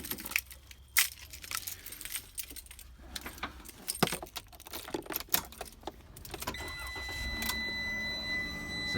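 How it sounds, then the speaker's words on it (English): Keys jangle loudly and repeatedly, then a Promaster van engine cranks and starts, settling into a steady idle with a faint whine, no talking. "So now if you see when I turn the car on,"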